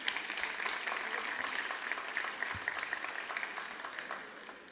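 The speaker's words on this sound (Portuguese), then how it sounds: "Aleluia, aplauda a Cris." A church congregation applauding a woman named Cris during a service, a steady wash of many hands clapping that holds for several seconds and thins toward the end, with a faint voice or two underneath.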